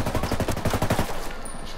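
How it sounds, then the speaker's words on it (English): Rapid automatic gunfire from the Ghost Recon video game rattles in a fast, loud burst of close shots, then tails off into a quieter fading echo. "I'm shooting"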